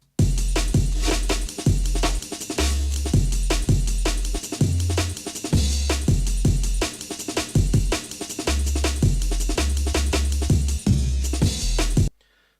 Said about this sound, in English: So then with the 2 breaks and the 808, it sounds like this.